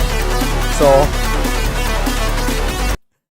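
The intro of an unfinished collaborative electronic track plays steadily at moderate loudness, with layered synth tones over a sustained low bass. A brief rising tonal sweep sits near the start, and the music cuts off abruptly at the end.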